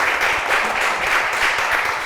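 Steady applause from a crowd, a dense even wash of clapping held throughout with no pauses.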